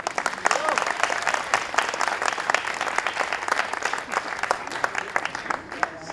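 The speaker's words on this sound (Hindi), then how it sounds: "जोरदार तालियां" Sustained applause fills a hall during a certificate ceremony at the Bhartendu Natya Academy, individual claps distinct within the steady crowd sound, with faint voices underneath.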